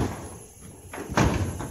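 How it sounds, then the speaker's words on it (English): A house door opens and then shuts with a couple of soft knocks and a firmer thud, heard close in a quiet indoor room. "I'm going in the door right now."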